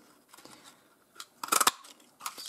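A craft punch board for making small gift bags cuts through paper in a few quick crisp snips and crunches, clustered into a short burst near the middle with lighter clicks before and after, close and alone.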